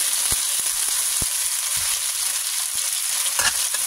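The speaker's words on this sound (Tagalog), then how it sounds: "so igisa na natin yung sibuyas" Chopped onions sautéing in hot cooking oil for mung bean stew, giving a constant loud hiss of sizzling with a few sharp ticks and taps from stirring, close up and with no voices.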